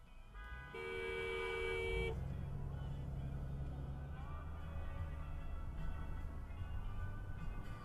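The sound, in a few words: car horn honking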